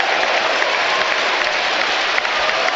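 Home football supporters in a stadium applaud a substitution as a striker leaves the pitch, giving a broad, steady roar of clapping that holds level across the whole stretch.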